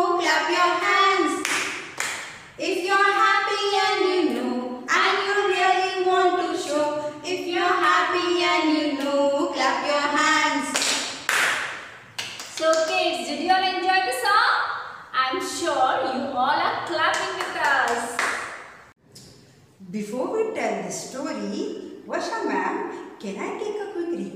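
Kindergarten children clap their hands in steady rhythmic bursts while singing a lively group song in an English class, with the claps mixed under the voices.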